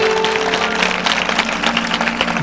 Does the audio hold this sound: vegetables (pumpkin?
no